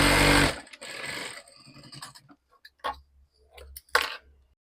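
A sewing machine stitches a fabric strip in a short whirring burst at the start, then gives way to sparse clicks and handling taps that fade to near quiet.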